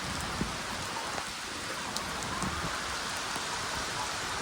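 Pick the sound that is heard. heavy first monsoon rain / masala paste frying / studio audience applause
heavy first monsoon rain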